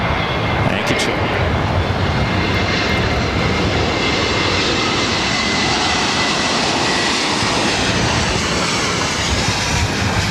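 A JetBlue Airbus A321neo arriving from JFK and landing at LAX as an emergency aircraft, a loud, steady broadband jet roar that holds throughout, with a voice talking over it.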